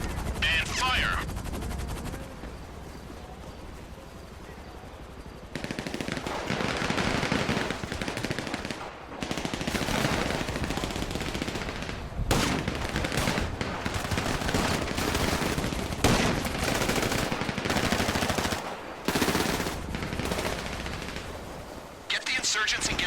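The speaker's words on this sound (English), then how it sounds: "Use the mounted machine gun on one of them if you have to." Insurgent armored vehicle's mounted machine gun firing in GTA, sustained loud bursts of automatic fire over roughly twenty seconds, with brief pauses between strings of shots and a continuous low rumble underneath.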